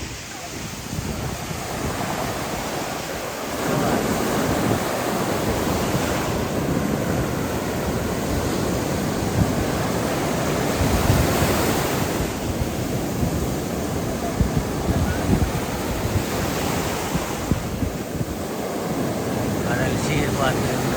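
Sea waves wash in continuously at the shore, a loud broad roar that surges and eases in slow swells, mixed with wind buffeting the microphone and no clear talk.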